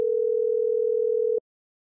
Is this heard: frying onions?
no